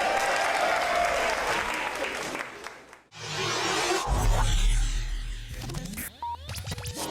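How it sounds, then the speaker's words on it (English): Audience applause at a live show, a steady loud wash of clapping for about three seconds, then a brief dip and a second burst of applause mixed with some crowd noise. "So give yourselves a round of applause tonight."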